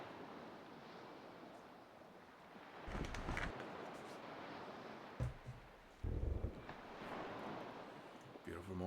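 In the video game Salt 2, a sailing boat moves across open sea, with a steady wash of waves and wind and a few louder splashes and thumps.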